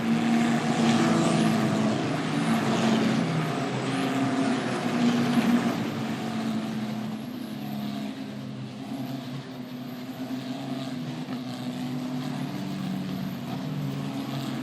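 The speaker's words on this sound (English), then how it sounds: "The final drivers just crossing the line now." Italian F4 race cars at Vallelunga cross the finish line on the final lap. Their engines make a steady, fairly distant roar, with pitch sweeps as cars pass, and the sound fades gradually. No one speaks.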